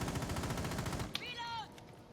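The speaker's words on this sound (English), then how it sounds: "I'll shoot at the wall real quick." A quick burst of rapid automatic gunfire aimed at a wall in Rainbow Six Siege rattles at a steady fast pace, followed by a short ringing tail, all fairly quiet.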